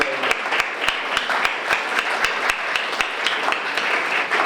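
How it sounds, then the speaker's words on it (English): A room full of people gives a round of applause at a ceremony, dense clapping with a few sharp individual claps standing out near the recorder, sustained throughout. "for a round of applause for the people who have contributed to this center over the years"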